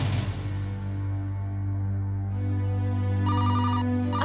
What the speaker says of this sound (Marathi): अगं बिंदिया थांब, मी फोन बघते.